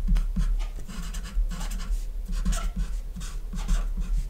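Pen scratching out a math sum by hand on paper during an integration problem, a steady run of short close strokes with no talking.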